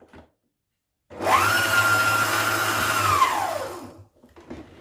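A Mutfak Şefi kitchen machine kneads bread dough for Ramazan pide, a steady loud motor whir running about three seconds with a slight pitch rise at the start and fall at the end, alone, then quiet.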